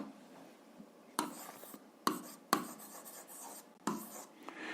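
A pen writing on paper while working an algebra exercise comes through as quiet scratching strokes in several short bursts with pauses between, close and faint.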